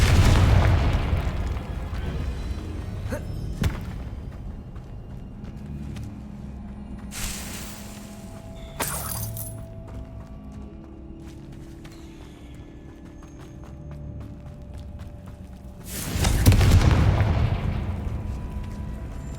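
In the Hogwarts Legacy video game, Confringo explosion spells go off as several loud booming bursts. Quieter stretches between them carry soft game ambience and a clip-clop patter.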